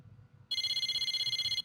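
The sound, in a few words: cell phone ringing in Persona 4 Arena Ultimax video game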